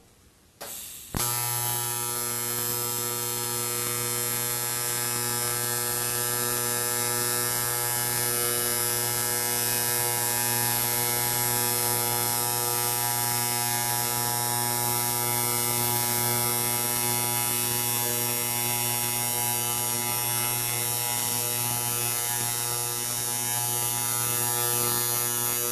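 A welder runs along an edge while filler rod is fed into the puddle, giving a steady electrical buzz that starts abruptly after a second and holds constant and unbroken throughout.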